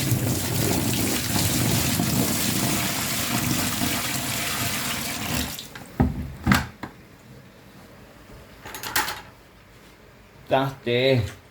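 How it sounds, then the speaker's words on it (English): A garden hose runs water into a bucket outdoors, a loud steady gushing fill for several seconds that cuts off, followed by a few short splashes and clunks and brief voices near the end. "I'll then get my hose and get some water in."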